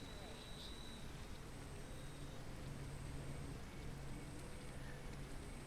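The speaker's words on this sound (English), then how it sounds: "I like the rain" Steady rain patters in a continuous hiss, heard from indoors at a music venue's demo night, with no talk.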